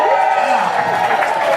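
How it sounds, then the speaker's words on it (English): Crowd cheering and whooping at a live alligator wrestling show, a steady loud roar of many voices filling the space, with a few louder shouts rising through it. "And the crowd goes wild."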